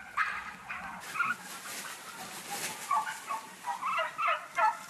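Turkeys on an organic farm gobble in repeated bursts, several calls overlapping at close to moderate range with short pauses between them, alongside occasional dog-like barks.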